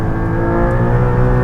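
A 2020 Porsche 718 Boxster Spyder on a race track, its engine holding a loud, steady high-revving drone heard from close by for a moment.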